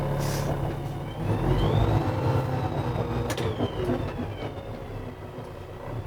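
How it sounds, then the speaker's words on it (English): A truck rolling at about five miles an hour during a pre-trip inspection brakes with its service brakes, giving a steady low engine and road rumble with a brief air-brake hiss partway through. "I'll get up to 5 miles an hour and I'll hit the service brakes"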